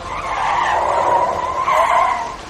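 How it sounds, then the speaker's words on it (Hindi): A car skids on the road, a continuous loud tire squeal holding steady for over two seconds before coming to a stop, with no one talking. "आखिरकार पहुंच के गाड़ी रुकी।"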